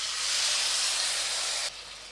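Water poured into a hot pot of frying rice for Bengali basanti pulao, giving a loud, close burst of steam hiss and sizzle that holds steady for over a second, then drops abruptly to a quieter simmer.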